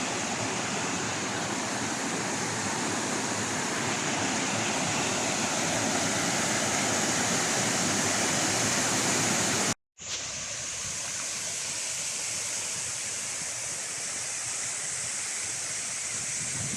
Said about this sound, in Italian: Una cascatona altissima.